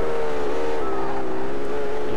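A race car engine in the Street Legal Racing Redline video game drones loud and steady, its harmonic buzz holding a nearly constant pitch with slight wavering and no speech.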